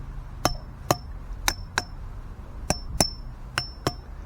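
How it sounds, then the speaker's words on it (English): Eight sharp metallic hammer blows on the metal parts of a squirrel-proof bird feeding station during assembly, in uneven pairs with brief ringing after each strike, close by and with no talking. "make sure you hit these parts here with a hammer"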